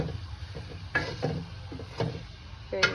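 A spoon stirs eggplant curry in a pan, giving a few soft scraping knocks at irregular intervals over a faint sizzle, close by and fairly quiet.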